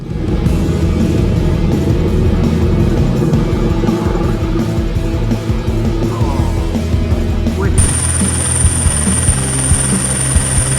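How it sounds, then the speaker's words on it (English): Royal Navy Black Cats display team helicopters fly off together, a loud, pulsing rotor thump with engine roar that shifts abruptly partway through, as the sound of another helicopter with a high whine takes over. "The Royal Navy Black Cats helicopter display team put on an impressive show with a dramatic stare-down before flying off in perfect synchronization."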